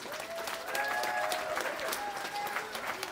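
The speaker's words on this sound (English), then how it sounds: "Let's give yourselves a big round of applause." Graduates and guests at a Southern California commencement ceremony applaud in a steady, dense wash of clapping with crowd murmur, heard from a distance at moderate level with faint voices mixed in.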